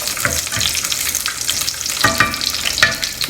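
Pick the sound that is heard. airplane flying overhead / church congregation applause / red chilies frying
red chilies frying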